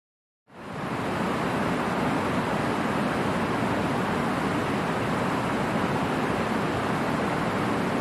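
Heavy, steady roar of Tumpak Sewu waterfall in Java, a broad continuous rush of falling water that starts abruptly and stays loud and even throughout, with no voices.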